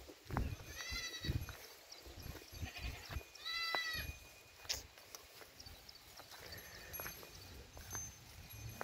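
A goat perched up on a rooftop bleats several times in short wavering cries, two strongest near the start and middle, heard fairly close over a busy background of rustling, knocks and faint distant noise, with no one talking.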